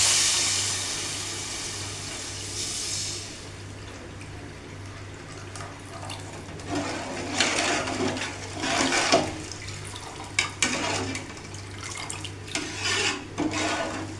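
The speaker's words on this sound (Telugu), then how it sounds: "ముందుగానే పెట్టుకొని చింతపండు రసాన్ని తీసుకున్నాము అయితే పోసుకోవాలన్నమాట" Tamarind juice is poured into a pan of simmering Andhra fish curry, giving a sustained watery splash and bubbling sizzle that swells and fades in several surges under a steady kitchen hum.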